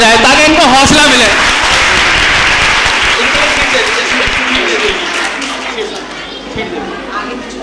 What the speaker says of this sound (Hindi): आप पहले इनके लिए तालियां बजाएं ताकि इनको हौसला मिले